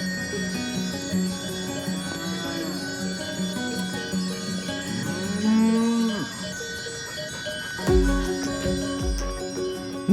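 Free-roaming cattle in a mountain pasture of Peneda-Gerês National Park, Portugal, give a couple of deep, drawn-out moos over a constant jingle of cowbells, fairly close and with no voices.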